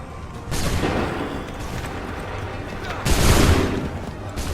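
A musket volley in Assassin's Creed 3 rolls out as a ragged burst of many overlapping shots, followed after a pause by a second louder crackling volley, with battlefield noise beneath.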